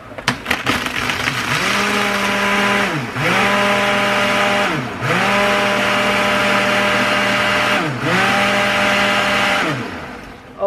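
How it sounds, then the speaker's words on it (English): A kitchen blender whirs while mixing a coffee drink made with espresso and sugar-free syrup, running in several loud steady bursts with brief dips where the motor slows between pulses; no talking. "We have my blender,"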